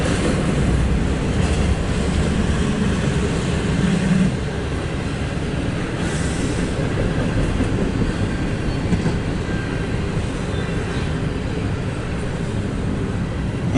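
A Southern train approaches on track 1 during a CSX and MARC rail scene, a loud continuous rumble and rattle of wheels on rails, close and sustained with a slight dip partway.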